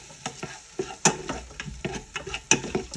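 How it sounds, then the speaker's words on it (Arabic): Onion, tomato and garlic sautéing in olive oil, a soft sizzle broken by sharp, irregular scrapes and taps of a utensil stirring in the pan, close and fairly quiet. "في البداية بناخذ شوي من زيت الزيتون، نحمس البصل والطماط والثوم."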